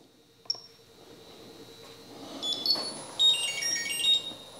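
A Boomerang Ranger RC sports jet powers on, giving a sharp electronic beep followed by a cluster of high chirping startup tones over faint background hiss.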